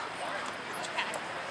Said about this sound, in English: Both Fanto and Cyrus are trained to detect drugs.